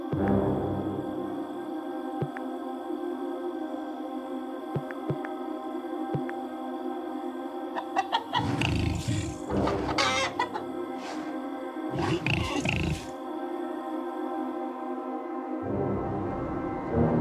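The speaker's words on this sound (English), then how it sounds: "The birds are awake before anyone." Chickens and a rooster clucking on a farm at dawn, a steady layer of fowl calls with a low hum beneath and several louder bursts of clucking and flapping midway, no talk.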